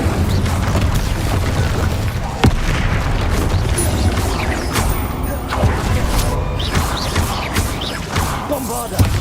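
Bombarda blasting spell being cast in the Hogwarts Legacy video game, with a sharp booming impact standing out among busy combat noise, thuds and pops, and a voice talking over parts of it.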